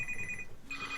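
A mobile phone rings during a live podcast about keyboards and trackballs, its steady electronic tone sounding in a short, clear burst with a brief change in pitch partway through.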